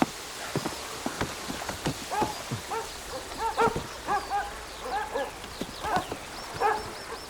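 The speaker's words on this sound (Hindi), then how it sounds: "इन लोगों के कुत्ते बहुत जोर से भौंकते हैं" Dogs bark in short, repeated bursts against a busy background, with sharp knocks mixed in and a few higher yips toward the end.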